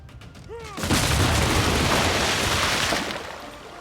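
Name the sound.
ships returning fire in Civilization 6 video game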